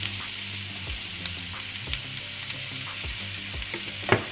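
Garlic and parsley frying in a pan, a steady close sizzle with crackling spatters and occasional low scraping stirs, loud and continuous with no talk.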